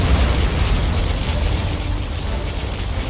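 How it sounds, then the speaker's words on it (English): A Scud Storm missile strike in the real-time strategy game Command & Conquer Generals Zero Hour lands as a loud, sustained rumbling explosion with heavy low-end roar and broadband noise, continuous across the whole moment with no talk. "Our Scudstorm has been launched."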